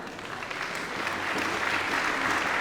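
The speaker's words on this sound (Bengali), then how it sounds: "জোরে একটা করতালি দিয়ে" Loud applause from an audience opening the UTSAV 9.0 fest, a dense steady wash of clapping that holds evenly and swells slightly toward the end, with no voices over it.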